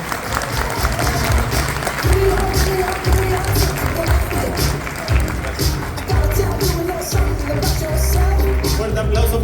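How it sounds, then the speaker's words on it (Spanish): An audience at a health panel on balance testing applauds the doctor, a dense, steady wash of clapping with crowd murmur and some voices mixed in throughout. "Un aplauso, por favor."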